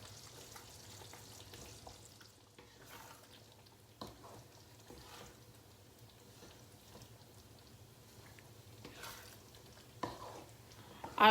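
Beef frying in coconut milk for rendang, stirred now and then: a soft, steady low sizzle with occasional scrapes and small pops of utensil against pan, fairly quiet throughout.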